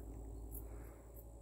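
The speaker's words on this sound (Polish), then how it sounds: "Świerszcze." Crickets chirp in a steady, faint, high-pitched trill across open summer countryside during an outdoor painting gathering, with a low rural hum underneath and no voices.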